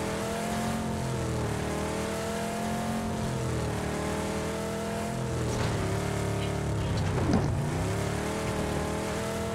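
A car drives in the battle-royale video game PUBG, its engine droning steadily and shifting pitch as it revs and eases off, with a brief sharper surge near the end.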